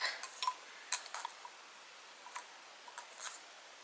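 Quiet scratchy scraping of an almost empty e.l.f. concealer pan, a handful of short close clicks and scrapes spread unevenly over a few seconds, faint against near silence.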